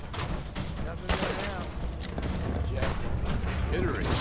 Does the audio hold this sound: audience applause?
no